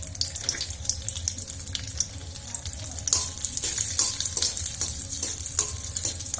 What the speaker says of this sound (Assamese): ইয়াতে কাজুখিনি আৰু কিশমিশখিনি মই ফ্ৰাই কৰি লম